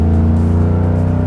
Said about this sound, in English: the bed acts as a megaphone of sorts and amplifies that awesome throaty exhaust sound